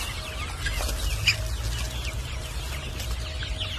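Black Australorp hens on a poultry farm clucking as they are fed fresh greens like fenugreek, coriander and spinach, several soft overlapping clucks close by over a steady low background hum.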